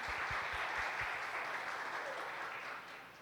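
Audience applause at a church women's conference fills the clip, a dense steady clapping that holds loud throughout and eases slightly near the end.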